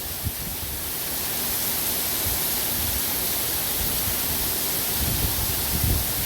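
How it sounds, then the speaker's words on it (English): Heavy rain pours steadily during a tropical storm making landfall on Dauphin Island, a dense, continuous roar with low gusty rumbles of wind, loud and unbroken throughout with no talking. "You could just hear how hard the rain's coming down."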